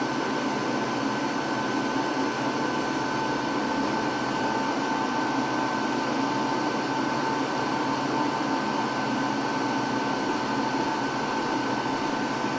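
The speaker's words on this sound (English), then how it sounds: "I can crank the heat gun a bit." A heat gun runs at a high setting beside a 12V LiFePO4 battery under load test, producing a constant, even blower roar with a faint steady tone and no variation or talking.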